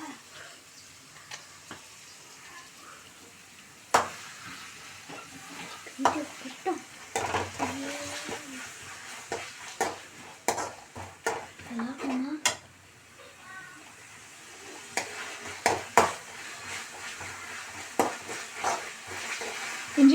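Golden onions fry with ginger garlic paste in a pan for mushroom rice, a soft sizzle broken by repeated sharp clinks and scrapes of a spoon stirring against the pan.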